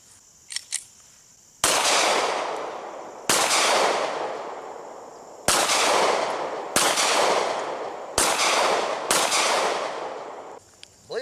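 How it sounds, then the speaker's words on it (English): Six loud, sharp Glock 43 pistol shots are fired with open sights at can targets, each crack ringing out briefly, spaced irregularly about one to two seconds apart after a few faint clicks. "at that time all 6 shots hit the target"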